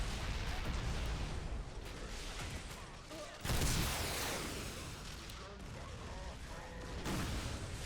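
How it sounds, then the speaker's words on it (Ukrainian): Rocket launches and rapid gunfire from a battle in a Warhammer 40k mod, a dense, continuous barrage with booming bursts, one louder blast midway, under ongoing narration. "Відповідні постріли звісно ж, лунають"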